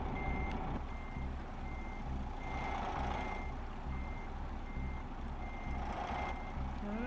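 In Euro Truck Simulator 2, a reversing truck's proximity alarm beeps in a regular pulse over a constant engine rumble, with occasional brief air-brake hisses and no talking.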